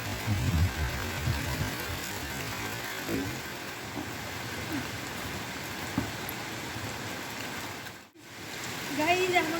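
Steady heavy rain patters across a rooftop, a dense continuous hiss with a brief dropout near the end.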